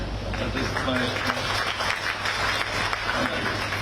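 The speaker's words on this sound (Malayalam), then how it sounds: "ഇപ്പൊ ഇഷ്ടപ്പെട്ട കൈയടിച്ചേക്കണേ." An audience claps and applauds together at a Malayalam talk event, a steady, dense patter of hands filling the room for a few seconds with faint crowd murmur beneath.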